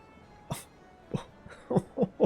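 Small dog's barks and yelps from a pup in the video game Final Fantasy XIV, a single sharp yelp followed by several short, close barks that quicken into a run of three near the end, with no talk.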